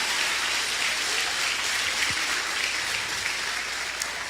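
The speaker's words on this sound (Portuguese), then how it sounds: "Se é para Deus, pode ser melhor esse aplauso" Church congregation at a worship service breaking into dense, sustained applause that stays steady and loud throughout, with no voices over it.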